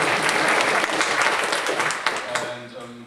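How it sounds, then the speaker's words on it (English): Audience applause at an intern lightning-talk event, a dense steady burst of clapping that fills the room and then tapers off, with a voice starting to speak near the end. "That's when you clap."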